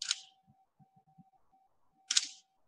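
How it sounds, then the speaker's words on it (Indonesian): An SLR camera shutter fires at a slow speed: a sharp click as it opens, a pause of about two seconds with a faint hum, then a second click as it closes. "pertama cekrek buka, kedua cekrek tutup"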